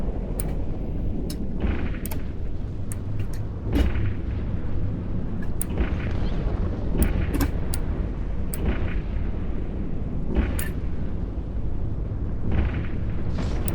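Weapons fire and explosions in the space game EVE Online, a dense continuous rumble of booming blasts with frequent sharp cracking shots scattered irregularly throughout, loud and sustained, no voices.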